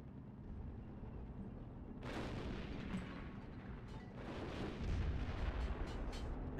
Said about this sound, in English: And now these guys are shooting.